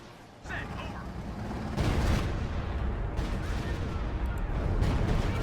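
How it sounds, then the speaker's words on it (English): A Stuka dive bomber barrage strikes in Company of Heroes 2, a steady roar of booming explosions swelling louder partway through, with battlefield rumble and possible talk beneath. "Stuka Barrage getting called it right into the center."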